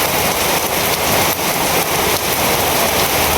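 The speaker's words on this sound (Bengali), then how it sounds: "আপনার সুন্দর বৃষ্টি হইতেছে" Heavy rain pours down steadily close by, a dense, loud hiss of drops beating on surfaces without a break through the short stretch.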